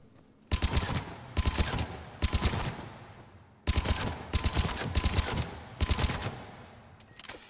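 Rapid bursts of gunfire crack out in clusters at a shooting range in the game Mass Effect 3 Legendary Edition, loud and close, with brief pauses between volleys.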